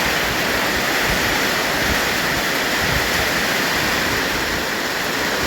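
Heavy rainwater floods and rushes over a field hut area after a downpour in Thailand, a loud, steady broadband roar of churning water that continues without a break.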